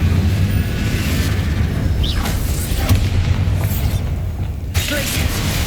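Explosive booming blasts from the Confringo spell in a Harry Potter-style video game ring out amid game effects and a heavy low rumble, loud and dense across the clip with a speaking voice mixed in.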